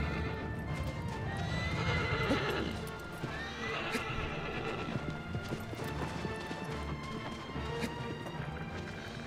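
A horse in the video game Shadow of the Colossus gallops with rhythmic clip-clop hoofbeats and whinnies, the sounds loud, close and continuous with game ambience behind.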